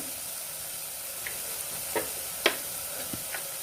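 Tomatoes fry in a pan for kabsa and get stirred, with a soft steady sizzle broken by a few faint scrapes and clinks from the spoon and no talking.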